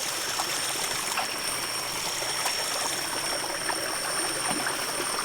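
Spring water runs steadily through a 2.5-inch pipe at its source, a continuous close rushing with a trickling texture and no breaks.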